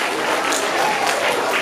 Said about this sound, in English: Give all of our third graders a round of applause.